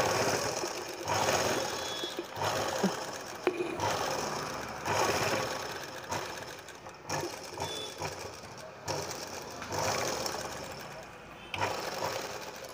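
A sewing machine stitches a Punjabi full collar neckline in repeated bursts of steady mechanical whirring, each run a couple of seconds long with short pauses between, close and fairly loud.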